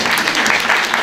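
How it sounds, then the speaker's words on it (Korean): An audience at a youth town-hall talk with a presidential candidate claps throughout, a dense, loud burst of applause heard up close. "박수 한번"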